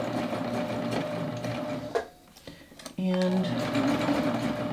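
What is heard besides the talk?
serger sewing a 4-thread stretch stitch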